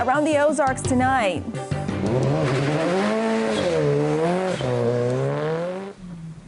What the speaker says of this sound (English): And that's the sound of autocross in the Ozarks.